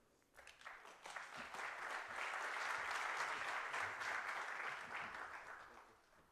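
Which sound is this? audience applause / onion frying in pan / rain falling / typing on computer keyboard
audience applause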